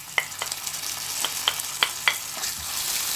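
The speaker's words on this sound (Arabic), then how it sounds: "كنشحروا الدجاج حتى يتشحر مزيان مع البصله" Chicken pieces frying in a pan with onion and olive oil, a steady sizzle broken by several sharp clicks of stirring.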